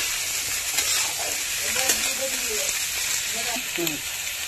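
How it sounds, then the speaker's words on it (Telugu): Washed brinjal pieces stirred in hot oil for a minute give a steady, close sizzling hiss throughout, with a voice faintly audible underneath. "వేసేసి 1 నిమిషం పాటు ఆయిల్లో అలా తిప్పుకోవాలి"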